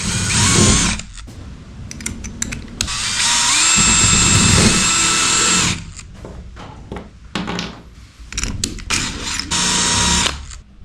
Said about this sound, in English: flush cut router bit, get that in there, and then I can bore out the majority of the channel